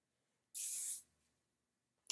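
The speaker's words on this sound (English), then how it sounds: "I'm just going to spray this with a light hold hairspray again" A single short burst of light-hold aerosol hairspray, a bright hiss lasting about half a second, close by in an otherwise quiet room.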